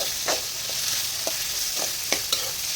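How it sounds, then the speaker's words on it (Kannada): Onion and tomato fry in a hot pan with a steady sizzle, and a utensil stirs them in a few soft scrapes and taps. No one speaks. "ಈರುಳ್ಳಿ, ಟೊಮ್ಯಾಟೊ ಒಟ್ಟಿಗೆ ಹಾಕ್ತಾ ಇದ್ದೀನಿ."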